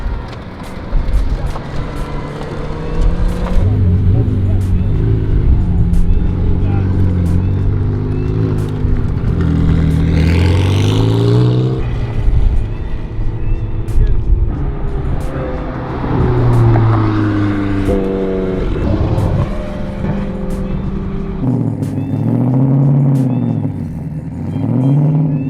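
Cars drive past and rev their engines at a beach party and car show, engine tones rising and falling loud and near throughout, with faint voices in the crowd now and then.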